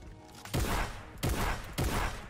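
Three heavy booming shotgun blasts in Fortnite, evenly spaced about two-thirds of a second apart, loud and close against a low background rumble.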